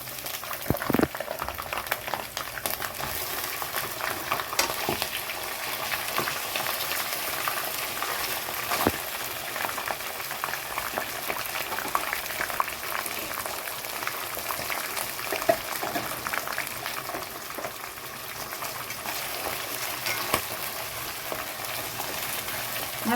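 Liver tipped into hot oil over browned onions for a spinach liver fry, a steady crackling bubble and hiss lasting throughout, close and even, with occasional stirring knocks and no talk.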